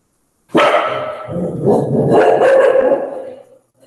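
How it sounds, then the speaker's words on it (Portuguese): A dog barking nearby, a loud, close burst of rough barks and growly yelps running together for about three seconds, heard alone. "Quando o cachorro está latindo muito, aí eu silencio aqui para não atrapalhar"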